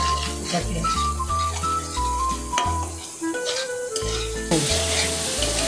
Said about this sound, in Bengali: আমি এখন একটু ভালো করে কষিয়ে নিব, তেলে আসা পর্যন্ত কষাবো।